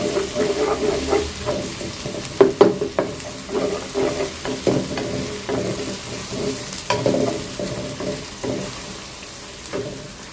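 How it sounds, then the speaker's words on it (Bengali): Three large sliced onions frying in a pan until light brown, a continuous sizzle broken by irregular scrapes and clatters of stirring, close and fairly loud with no talk. "একটু হালকা ব্রাউন করে ভাজবো পেঁয়াজটা।"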